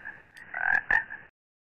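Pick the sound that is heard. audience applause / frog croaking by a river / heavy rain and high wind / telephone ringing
frog croaking by a river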